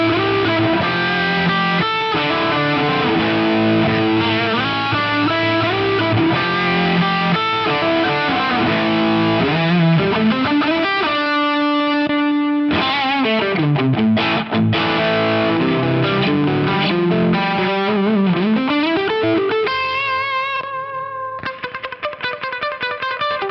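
Electric guitar played through a Fractal VP4 effects preset on scene 4, with the drive block changed and several effects engaged, giving a loud, distorted, reverb-washed tone with sustained chords and melodic bends over about twenty seconds.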